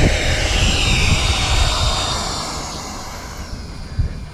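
A 3D printed RC Grumman F11F Tiger jet with a 50mm electric ducted fan taxis on the ground, its fan whining steadily and close, slowly easing in loudness over the few seconds.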